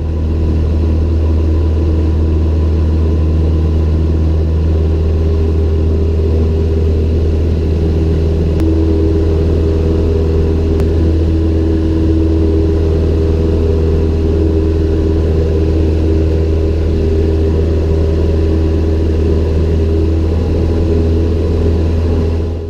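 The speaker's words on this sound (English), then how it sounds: "hold a little back pressure on the control yoke, and the airplane will lift off when it's ready to fly." A small airplane's engine roars at full throttle during the takeoff run and lift-off, a loud, steady droning hum with constant tonal harmonics throughout and no speech.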